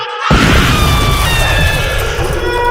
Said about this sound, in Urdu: ایک زوردار دھماکہ ہوا